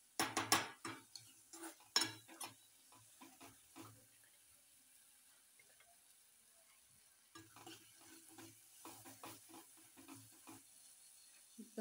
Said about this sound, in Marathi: मस्त मसाले पण हे पण तेलात परतून घेऊया